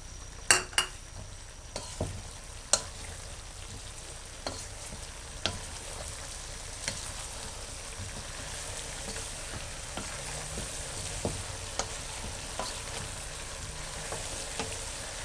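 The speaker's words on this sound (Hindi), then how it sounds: "आलू बहुत जल्दी गल जाते हैं फ्राई होते हुए, इसलिए बहुत एहतियात से इनको भूनें ताकि ये टूट ना जाए" Potato pieces frying in oil for a spiced aloo dish, a soft, steady sizzle with a few sharp clinks of a spoon on the pan early on, then gentle stirring scrapes, no voices.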